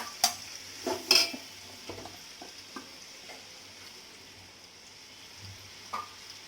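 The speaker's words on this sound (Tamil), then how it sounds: "இந்த டைமில் நான் கட் பண்ணி வச்சுருக்க வெங்காயத்தை போட்டுக்கிறேன்" Chopped onions fried in oil for chicken biryani, a soft sizzle with a few sharp spoon clinks and scrapes at the start and near the end, fairly quiet and close with no voices.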